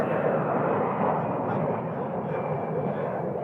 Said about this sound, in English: Allegiant Air Airbus taking off.